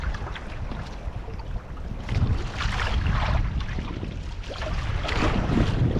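Strong northeast monsoon wind (amihan) blows at sea around a small fishing boat, a steady loud rush of wind buffeting the microphone with broadband noise and surging gusts throughout.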